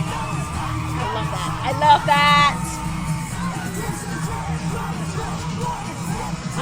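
A live concert crowd cheers and yells over a steady musical backdrop, with a brief burst of high shrieks partway through; a nearby voice speaks briefly.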